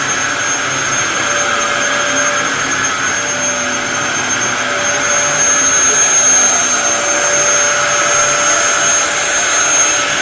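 A vacuum cleaner runs continuously on carpet, producing a loud, steady motor roar and airy whine that holds unchanged throughout with no talking.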